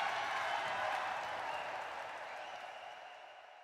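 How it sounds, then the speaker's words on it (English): A hockey crowd cheering and applauding in an arena, a broad wash of clapping and roar that is fairly distant and slowly fades over a few seconds. "the cheering crowds"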